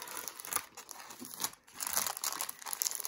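A diamond embroidery kit being unpacked from its box and plastic packaging, with continuous crinkling and rustling of plastic and paper, close and quiet, no speech.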